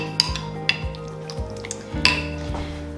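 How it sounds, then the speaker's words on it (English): Red chicken pozole stirred in a pot, with a few sharp spoon clinks against the metal and a soft sloshing bubble underneath, close up and without voices. "So now I can just stir it up a little bit."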